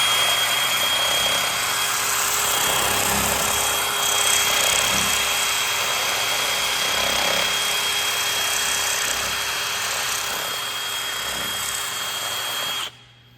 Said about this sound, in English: I just have a little sandpaper flap disc thing that we just stick in here and gonna take all that rust off